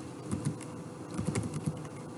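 Sparse, soft keystrokes on a computer keyboard as a command is entered at a command prompt, a handful of light clicks in a quiet room.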